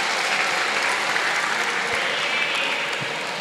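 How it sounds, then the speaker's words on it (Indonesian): A vocational high school class applauds a student, Mas Salampesi, with a dense, even burst of many hands clapping that holds steady at close range for a few seconds, without talk. "Aplaus buat Mas Salampesi"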